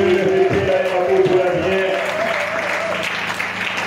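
A church congregation claps and cheers in praise of the Lord, a steady close wash of applause mixed with singing and raised voices.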